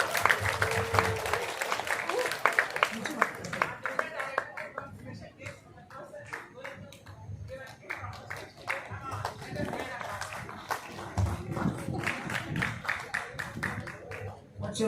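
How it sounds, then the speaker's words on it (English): Audience applause in a meeting hall, a steady patter of many hands clapping across the whole stretch, rising and falling slightly, with a voice talking over it at times. "Please, can we have a huge round of applause?"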